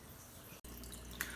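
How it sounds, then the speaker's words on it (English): Water trickles and drips into small glass test tubes being filled to 5 milliliters for a freshwater aquarium test kit. The sound is faint and steady, broken by one brief click partway through. "Now it's time to go fill up all of our test tubes with 5 milliliters of water."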